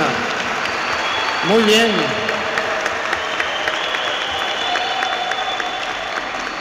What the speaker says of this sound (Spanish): Un aplauso pues para esta hermana.